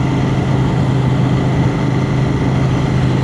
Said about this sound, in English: the tiniest wee touch in the throttle and the bike's wanting to jump and go